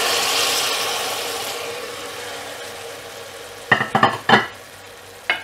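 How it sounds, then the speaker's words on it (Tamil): Basmati rice tipped into a sizzling pot for coconut milk pulao: a hissing fry fades slowly, then several sharp scraping strokes of mixing follow, close and distinct. "பாஸ்மதி ரைஸ் ஆட் பண்ணிவிட்டு லைட்டாக மிக்ஸ் பண்ணி விட்டுடலாம்."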